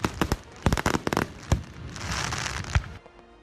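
Fireworks go off in a rapid irregular string of sharp bangs and crackles, followed by a sustained fizzing crackle that cuts off into quiet.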